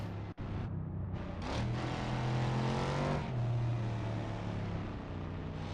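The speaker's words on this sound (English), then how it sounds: "That is the meanest V8 I've ever heard." A car's V8 engine with its exhaust open, in a car based on the AMG Hammer, roars loudly and steadily at high revs, its pitch climbing and then holding near the listener.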